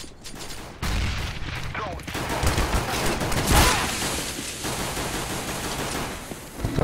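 Gunfire in CS:GO during a knife-only competitive match, rapid bursts of shots crackling under continuous loud game noise, with a player talking in places.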